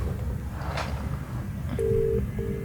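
A telephone is dialled in a short burst of keypad tones after a quiet stretch, followed by steady electronic tones, faint over a low background hum, with no talking.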